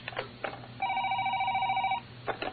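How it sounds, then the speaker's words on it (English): A telephone rings in one sustained electronic trill lasting just over a second, set between short bursts of other activity, clear and fairly close in a quiet room. "The phone is ringing off the hook."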